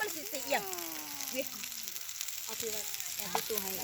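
Pork grills over heat at a holiday campsite in Korea, giving off a steady, close sizzle while someone talks over it.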